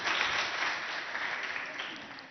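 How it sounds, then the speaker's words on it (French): Audience applause at a school quiz competition between two schools, a dense, steady clapping from many hands that starts strong and eases slightly over a couple of seconds. "On applaudit."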